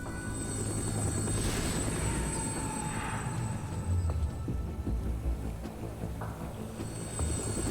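A helicopter approaches in the video game Metal Gear Solid 2, its rotor thump and turbine whine filling the scene as a loud, steady drone with a rising whoosh passing through.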